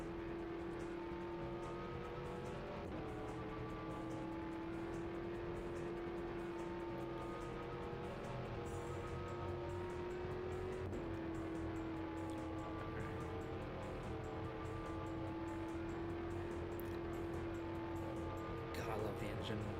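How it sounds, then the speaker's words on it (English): A Le Mans race car engine drones in a sustained, steady tone with slight pitch shifts, faint and distant under a talking voice. "The sound of this engine."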